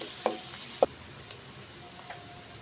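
Garlic and onions sautéing in a little oil in a pan for ginataang tilapia, a faint steady sizzle with two sharp stirring clinks near the start and softer taps later.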